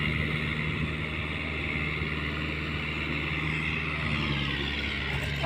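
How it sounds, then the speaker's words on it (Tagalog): A tractor engine labors in a steady, loud drone while stuck in deep, sticky mud in a low-water field, its low rumble constant and close, with no talk over it. "mo hirap na hirap ang traktor sobrang lubo yan oh"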